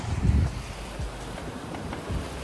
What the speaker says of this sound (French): Je sais pas si vous allez bien m'entendre avec le bruit des vagues, il y a un petit peu de vent.